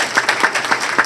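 Brief scattered clapping from an audience at a county board of commissioners meeting, a handful of distinct claps over about a second, fairly close and moderately loud.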